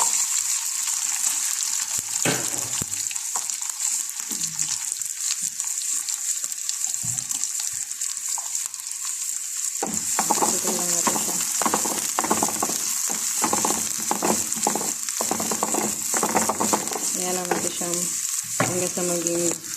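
Onions dropped into hot oil for Indian dal, a steady broadband sizzle with crackling pops that swells louder and busier about halfway through, close up with occasional stirring and no talk.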